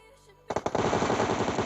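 Rapid automatic gunfire in the PUBG Mobile battle-royale game, a quick burst of loud, close shots beginning abruptly after a quiet moment and continuing without a break.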